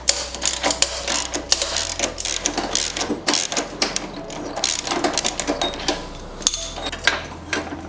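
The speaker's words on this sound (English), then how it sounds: "Once you've done that, get your ratchet." Ratchet tightening a carbon exhaust tip fitting on a BMW M4, rapid close clicking in irregular bursts over a low steady hum, loud and busy throughout.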